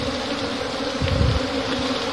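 Low, droning buzz of honey bees in bamboo roots hums steadily close by, swelling louder for a moment midway through before settling back to a continuous background hum.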